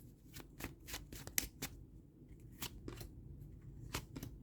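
Tarot cards shuffled and pulled from the deck, a series of crisp riffling flicks and slaps at an irregular rhythm, close and fairly quiet, no voices.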